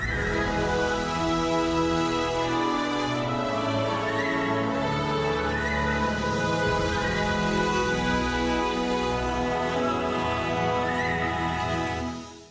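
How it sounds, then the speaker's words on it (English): An orchestral trailer score plays loud and sustained for about twelve seconds, rich layered strings and brass with a choir blended softly underneath, then fades at the very end. "So you can hear the choir in the background."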